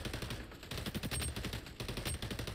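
Sustained rapid automatic fire from an M4 rifle in the shooter game xDefiant, fairly quiet in the mix and continuous for a few seconds, with brief gaps between bursts.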